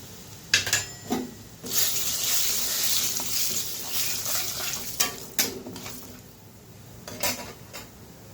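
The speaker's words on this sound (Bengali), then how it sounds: "তেলটা গরম হয়ে গেছে, তো গুঁড়ো করে রেখেছি মশলাটা দিয়ে দিলাম।" Ground spices hitting hot oil in a wok, a broad steady sizzle with several sharp bursts and spoon clatters, close and fairly loud throughout, no voices.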